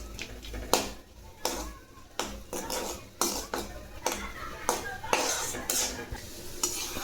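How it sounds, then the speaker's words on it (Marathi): Cashews fry in a pan for a pineapple semolina sweet, with a soft sizzle under repeated clinks and scrapes of a spoon stirring against the metal. The sounds are close and fairly quiet, with no talking. "त्या अगोदर आपण काजू तळून घेऊ."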